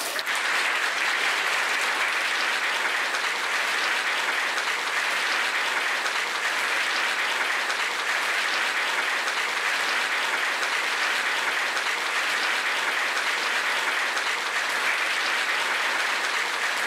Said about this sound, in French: Mesdames et messieurs, veuillez applaudir chaleureusement la récipiendaire pour l'année 2021, Juliane Aumont.